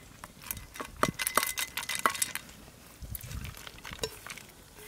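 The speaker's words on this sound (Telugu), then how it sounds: "పన్నీరు కాజు ముక్కలు వేసి కలుపుకుందాం" Paneer and cashew pieces stirred in a pan for kaju paneer masala: a spoon clinks and scrapes against the metal in irregular bursts, with soft shuffling of the pieces between strikes.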